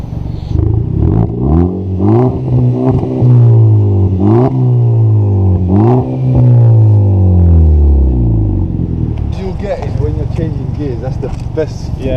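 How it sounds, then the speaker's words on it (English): VW Golf GTI with straight-pipe exhaust and muffler deletes, revved hard several times, each blip rising and falling in a loud rasping drone, then settling into a rough, burbling idle close by. "Should we hear some sounds before we go further?"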